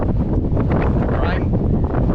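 Strong, gusty wind roars across an open farm field on a hot planting day, buffeting the microphone with a continuous loud rumble and no break for the full length.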